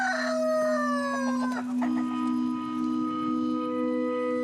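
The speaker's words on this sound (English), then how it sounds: "When I wake up in the morning and the cock crows, life begins." A rooster crows near and loud in the morning on a volcanic island in Kamchatka, one long drawn-out crow that falls in pitch, with a steady hum in the background.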